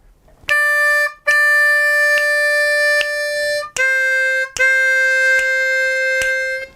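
A harmonica plays a bluesy 12-bar blues phrase of sustained, reedy notes, including the 4 draw over the 5 chord, with short breaks between them, close and fairly loud, with no voices.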